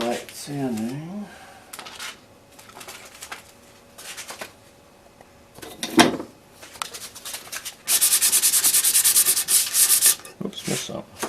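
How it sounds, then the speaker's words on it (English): Guitar wood at the Greven guitar workshop gets light hand sanding in short bursts of rubbing, quick strokes near and fairly loud, with a longer stretch late on and speech heard in between. "Very light sanding."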